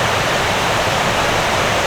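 A waterfall in Ireland roars as a steady, loud broadband rush of falling water, close by and continuous with no talk over it.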